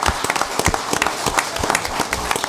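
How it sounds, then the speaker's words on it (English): Audience applause for fire safety program participants at a town council meeting, a steady dense patter of many hands clapping close by for the whole stretch. "And you all deserve a round of applause too for participating in this"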